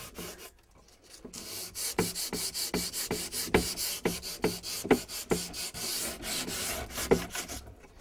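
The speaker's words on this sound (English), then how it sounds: "I'm going to go ahead and sand this part off where I got some on accidentally." Painted wooden furniture is hand-sanded to remove drips and stray paint, giving a string of rhythmic rasping strokes, close and fairly loud, each pass a short scratchy burst with brief pauses between.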